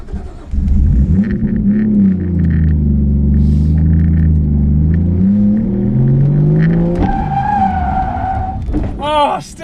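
A 450bhp Nissan R33 Skyline runs loud and close during drifting, its engine droning and rising in pitch with throttle blips, then cutting out as it stalls, followed by a brief high-pitched chirp at the end.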